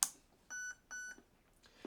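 Short electronic menu beeps from a Specna Arms FX02 airsoft gun with a HALL ETU, two clear tones in quick succession with a faint click before and after, quiet and close.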